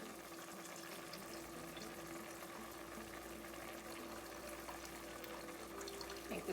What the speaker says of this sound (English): I'm going to add more water.